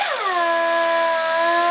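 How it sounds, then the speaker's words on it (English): A die grinder with a disc sander spins up to a steady high-pitched whine while sharpening tungsten, loud and close, its pitch rising sharply at first and then holding. "Disc sander on a die grinder."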